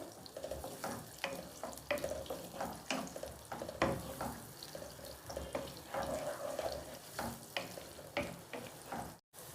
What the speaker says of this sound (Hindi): इसको मैं थोड़ा सा फ्राई करूँगी।